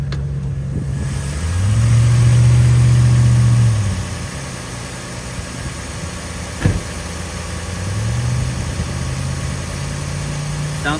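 A 2000 Mitsubishi Eclipse GT convertible's six-cylinder engine with automatic transmission idles close by with a steady low rumble, swelling twice in brief gentle revs and giving one short knock midway, with no talking.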